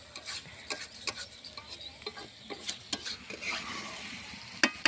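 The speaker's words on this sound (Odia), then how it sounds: "ମାଂସ ହେଲା ଆମର ଚୁଲିରେ ରନ୍ଧା ହୁଏ।" Chicken cooking on a clay village stove, stirred and scraped in the pot, with an irregular series of soft scrapes and taps over a low sizzle, close by, with no talk.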